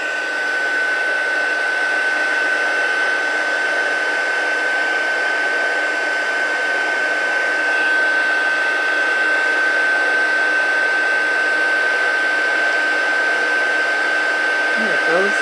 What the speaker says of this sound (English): I'm going to put my gun on the second setting. I'm going to heat emboss this.